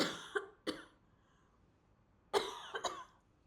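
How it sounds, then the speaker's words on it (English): A person coughs twice, pauses, then coughs in a quick cluster of three more, close and fairly quiet. "cough."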